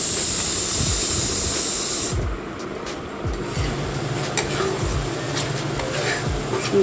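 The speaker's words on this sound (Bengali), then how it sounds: "টমেটোর যে পেস্টটা বানিয়ে রেখেছিলাম সেইটা দিয়ে দিচ্ছি" Tomato paste stirred into a mutton curry in a pan with some raw papaya sets off a loud, steady sizzling hiss. It starts bright and intense, eases after a couple of seconds, then carries on as a continuous close crackle.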